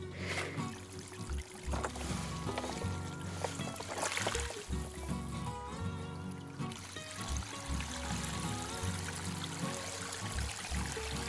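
Steady rush of water gushing and pouring onto the ground to flood it while building a chicken run, a continuous loud flow with some gurgling and a few low thumps.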